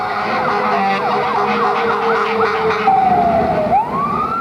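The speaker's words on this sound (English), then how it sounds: "This has been a night of sirens and flashing lights." Fire engine sirens at night on Detroit's east side during Devil's Night: wailing, sweeping tones overlap and shift, then one siren winds down and rises again, loud and close over street rumble.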